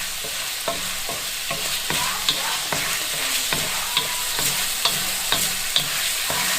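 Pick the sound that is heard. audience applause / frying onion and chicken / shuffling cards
frying onion and chicken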